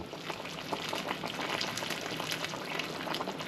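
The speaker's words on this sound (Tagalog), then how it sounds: "hindi tumigil yung kulo niya kasi mainit na tubig na yung nilagay natin" Water boils vigorously in a pot for chicken tinola, a continuous dense bubbling and popping at moderate volume with no talking.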